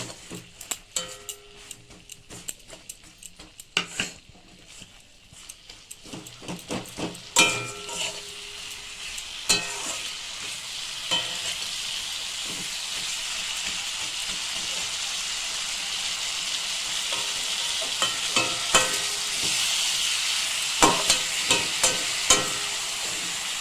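Pointed gourd fries in a pan with coconut paste and little oil over lowered heat, a steady bright sizzle swelling midway, punctuated by scraping and clattering stirs of a spatula close by.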